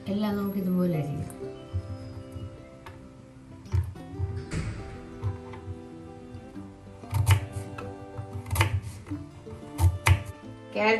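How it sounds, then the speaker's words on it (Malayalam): Carrots are chopped into small pieces on a board for carrot mezhukkupuratti, giving soft knife taps in uneven bursts under quiet background music. "എല്ലാം നമുക്ക് ഇതുപോലെ അരിയാം."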